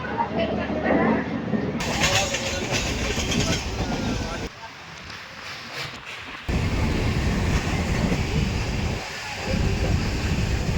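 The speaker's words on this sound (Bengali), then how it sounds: "আপাতত ট্রেন জার্নিটাকে ফিল করো" Shalimar–Puri Sri Jagannath Express running, a steady loud rumble of wheels on rails with broadband rattle and wind rush, briefly dropping quieter mid-way before the roar returns.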